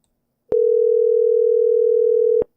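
A single steady voicemail beep on a phone call sounds alone as one clean sustained tone of about two seconds, starting and stopping abruptly.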